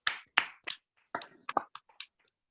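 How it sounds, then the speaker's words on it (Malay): Seminar participants in a presentation skills training session clap for themselves, with a few sharp, separate claps and snaps spread over a couple of seconds, close and fairly quiet with no talking. "Maka berikan satu tepukan untuk diri sendiri."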